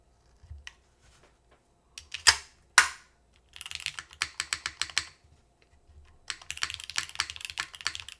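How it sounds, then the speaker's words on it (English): Spacebar on a stone keyboard struck in two loud single presses, then rapid bursts of clacky, stiff presses in quick clusters, close and clear with no talking. "Just to show you guys what the spacebar sounds like with these on"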